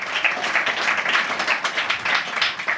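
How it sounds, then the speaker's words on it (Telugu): A church congregation claps loudly and steadily in sustained applause through a sermon break, the dense patter of many hands filling the room without pause. "గట్టిగా చప్పట్లు కొడదామా?"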